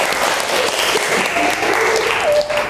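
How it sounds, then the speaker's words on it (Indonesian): Loud, sustained applause from a classroom group after a student presentation on electrolyte solutions, with faint voices mixed into the clapping. "tepuk tangan untuk kita semua."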